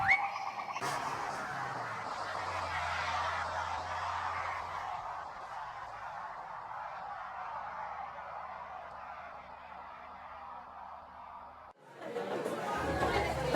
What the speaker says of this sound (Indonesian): Ia disambut dengan suara gaduh para siswa.